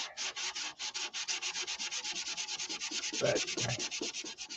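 Sandpaper is rubbed by hand over primer on a car body in quick, even back-and-forth strokes, about six per second. The scraping is close and fairly quiet, with one brief louder knock partway through.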